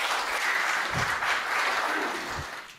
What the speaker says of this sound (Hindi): एक बार आपकी जोरदार तालियों के बीच में